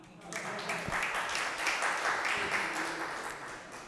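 An audience at a Korean-language lecture in an alumni hall breaks into applause. The clapping swells after a moment and carries on at moderate volume while a voice speaks over it.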